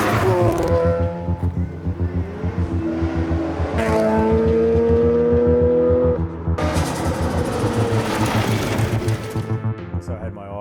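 Mazda R100 gravel rally car driven hard through a forest, its engine revving and rising in pitch through repeated gear changes with abrupt bursts and cutoffs, loud and close, with occasional tire noise.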